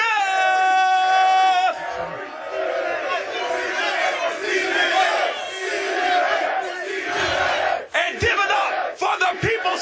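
A large studio crowd cheers and yells loudly and continuously, with a burst of whistles or shouts at the start and a brief dip near the end.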